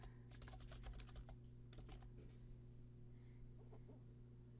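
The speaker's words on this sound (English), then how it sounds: "I'll start typing that into the box now." Fast, quiet clicking of keys on a computer keyboard as text is entered into an online form, bursts of close keystrokes that thin out, with faint chicken clucks somewhere in the background.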